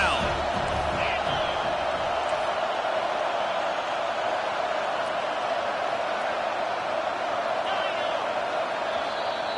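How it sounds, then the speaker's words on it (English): A stadium crowd in College Football 25 roars steadily with dense, continuous cheering on a defensive third down, and the noise holds at an even level throughout. "Decibels rising as the crowd gets behind this defense on third down."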